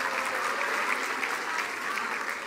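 Loud, sustained applause from a crowd at a senior high school graduation ceremony, dense and steady throughout with no pauses.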